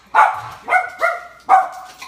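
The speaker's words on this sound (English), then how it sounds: "You have dogs barking." A single dog barks indoors, four sharp separate woofs at an uneven rhythm, close and fairly loud, with quiet gaps between them.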